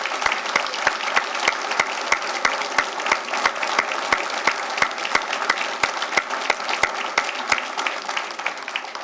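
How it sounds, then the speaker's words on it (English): Audience applauds candidates at a council candidates forum: steady, dense clapping from a room full of people, with a few sharp claps standing out near the front. It keeps going evenly for several seconds. "let's give them all a round of applause"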